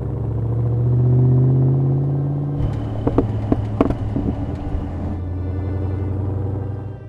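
Restored Land Rover Defender 110 with a 6.2-litre Chevy LS3 V8 and manual transmission, idling with a deep steady rumble, then a burst of sharp revs with crackling pops before settling back to idle.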